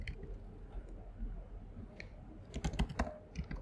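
Computer keyboard keys typed in irregular bursts while entering Flutter code, the clicks growing denser and louder toward the end over a low background hum.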